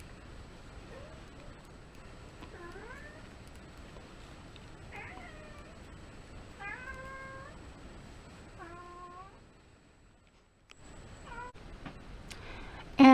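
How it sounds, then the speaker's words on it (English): A house cat meows repeatedly, a run of short rising and falling chirpy calls spaced a second or two apart, fairly close in a quiet indoor room. "My cat is really chatty at the moment, sorry."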